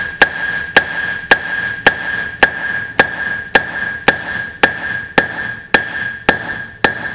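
Hammer striking a hot iron nail on the horn of an anvil while forging nails, thirteen sharp, ringing metallic blows at a steady, even rhythm, loud and close with brief decays between strikes.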